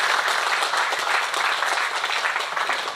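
Audience at a Naposo Sitorus youth anniversary celebration in Batam clapping their hands together, a steady dense patter that holds evenly for a few seconds with no voice over it.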